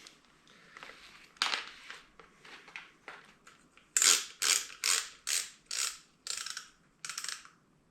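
Ratcheting clicks from a screw being tightened on the top strap of a Pimax Crystal VR headset, a series of close, sharp mechanical ticks, faint at first and then louder in a steady rhythm.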